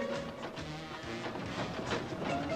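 A train rumbles along with a rhythmic clatter of wheels, a steady mechanical churn filling the space without any voices.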